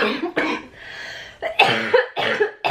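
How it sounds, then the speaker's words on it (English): A person with Covid gives several harsh coughs in quick succession, close and loud, with a throaty rasp between bursts. "I'm gonna have a coughing fit now"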